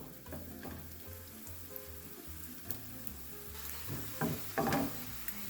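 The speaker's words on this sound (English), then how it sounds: "we are going to add some avocado oil. We're just going to do a shallow fry. Okay, this oil is hot. Let's go ahead and put in our wedges" Potato wedges go into hot avocado oil for a shallow fry in a skillet. A quiet, steady sizzle swells into sharper, louder crackles as the pieces land in the pan.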